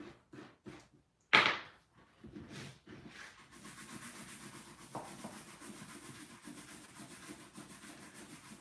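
A small brush scrubbing WWII reenacting boots: a few scattered knocks and a sharp brushing swipe, then continuous close rapid bristle scrubbing over leather, moderately loud and alone.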